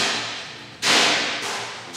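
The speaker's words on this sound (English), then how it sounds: "I like how there's so much peeling noise." Window tint film, 3M Crystalline, being peeled in a tinting shop: a steady hissing tear that jumps sharply louder partway through, then eases and surges again near the end, close and continuous with no talk.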